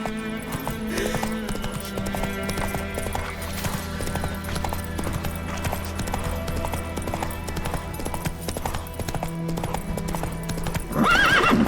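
The horse Roach clip-clops steadily in The Witcher 3 game, its hoofbeats running loud and continuous with a music bed underneath, and a neigh rises near the end.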